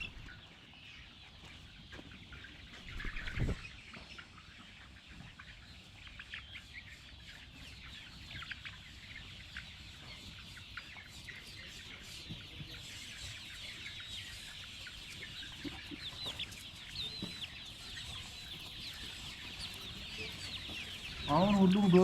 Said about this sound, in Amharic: አሁን ሁሉም ዶሮዎች ማለት ነው በጣም እየተረባረቡ ነው። ጎመኑ ላይ ነው ሙሉ ትኩረታቸው።